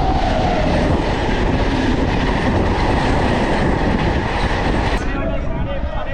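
A crowded passenger train on the Ongole to New Delhi route, running near Amla Junction, rumbles loudly and steadily along the rails, a dense continuous roar of wheels and carriage noise with no clear voices.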